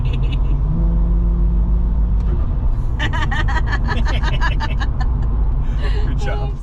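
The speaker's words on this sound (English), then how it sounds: "us being giggling children with the turbo noises" A turbocharged Ford Barra engine pulls a car along, its steady loud rumble close and constant while turbo whistles and spooling whooshes rise over it and people giggle and chatter inside.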